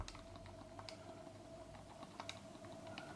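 Keys clatter in quick, uneven bursts as someone types on a keyboard for a Steam Deck; the clicks are close and fairly soft over a low steady hum, with no talking.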